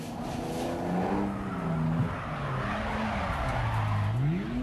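A car drifting in second gear while someone learns to drift, the engine holding a steady, wavering drone as revs rise and fall, with continuous tire noise throughout and no talking.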